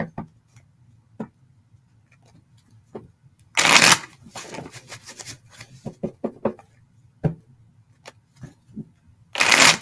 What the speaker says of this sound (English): let me throw some cards on that and I'll answer that question